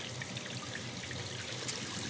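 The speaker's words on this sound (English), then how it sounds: "Now we're going to fill up the sink with cold water here." Cold tap water runs steadily into a kitchen sink, a continuous close trickling and splashing with no talk over it.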